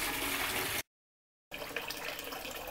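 Tap water runs into a bucket in a steady rushing stream, cut by a short gap of silence before the flow resumes just as loud.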